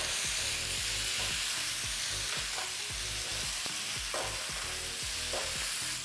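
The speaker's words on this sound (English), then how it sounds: "This is time, add the broccoli, toss everything together." Steak and broccoli are tossed together in a hot sizzling pan, giving a steady loud frying hiss. Repeated scraping stirs and clacks from a utensil cut through it in an uneven rhythm.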